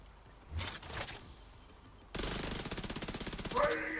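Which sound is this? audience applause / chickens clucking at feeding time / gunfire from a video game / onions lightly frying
gunfire from a video game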